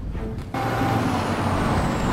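A truck in a controlled crash-test run accelerates toward 80 km/h, its engine a loud, steady roar that swells abruptly after a brief quieter moment and holds strong with no talk.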